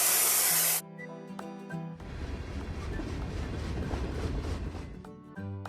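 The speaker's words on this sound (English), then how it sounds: "Look at the cloud and choose the same color on the spray gun." Spray gun hissing as it paints a train flat car in a mobile train-building game, a steady loud spray lasting several seconds after a brief sharp burst, with light game music and tones around it.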